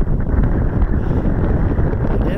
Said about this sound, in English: it's incredibly windy out here today.